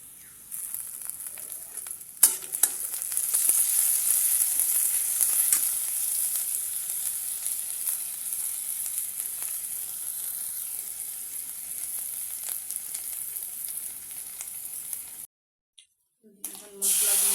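Onion paste fries in a pan with a bright, continuous sizzle and hiss, loud and close, with a short clatter early on; it cuts out briefly near the end before resuming.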